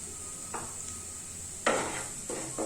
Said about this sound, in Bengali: সব দিয়ে ভালো করে কষিয়ে নিতে হবে।